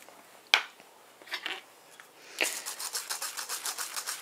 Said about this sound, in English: So just sifting it in right along with the other dry ingredients